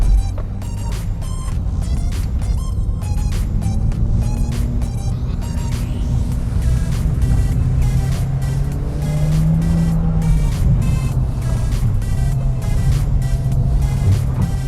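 A Mitsubishi Lancer Evo or Subaru Impreza STI Spec C rally car runs at full throttle, a loud, continuous engine drone heard from close by, with rapid crackling pops and rattles over the first half.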